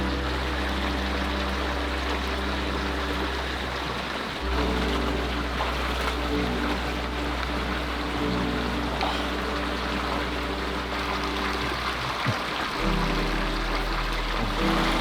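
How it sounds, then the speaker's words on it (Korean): Water flows steadily from a stream behind a natural outdoor foot bath in Noboribetsu, Hokkaido, a continuous close rushing wash with a low rumble and no talk. "저 뒤쪽에서 물 흐르고 있습니다."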